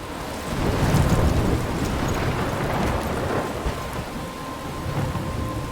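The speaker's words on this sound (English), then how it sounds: "I'm trapped in a storm?" Thunderstorm with heavy rain in the game Life is Strange: a dense, loud hiss of rain with rolling thunder swelling near the start, continuous and without talk.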